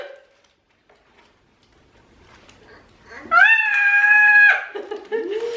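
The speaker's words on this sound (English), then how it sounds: "Everybody wanna know why she's screaming." A woman screams with excitement on opening a Christmas package, a loud, sustained high-pitched shriek of about a second after a quiet stretch with faint rustling, followed by shorter excited vocal bursts.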